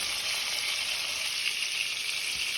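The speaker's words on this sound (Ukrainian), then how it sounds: "М'ясо потихеньку смажиться, дуже гарне м'ясо" Meat fries steadily in oil in a pan, a dense, even, close sizzle with no pauses and no talking.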